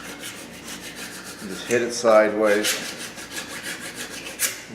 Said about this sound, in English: So I'm going to take a file